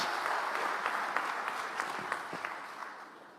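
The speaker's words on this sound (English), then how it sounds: "Another round of applause" Steady applause from a crowd, dense clapping that fills the whole stretch with a few sharper claps standing out, moderately loud and without speech.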